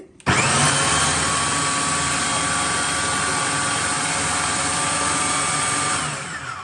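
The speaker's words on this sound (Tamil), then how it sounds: "சரியாக உரலில் அடிக்கிற மாதிரி இருக்கும் இந்த கிரைண்டரில் அரைக்கிற சம்பல்" An electric grinder whirs at full speed while grinding coconut sambol with onion and chili, a loud, steady motor roar that starts abruptly, holds constant for about six seconds, then begins to wind down.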